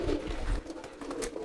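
Homing pigeons coo in a loft: soft, low throaty calls repeat close by, with rustling and no talk.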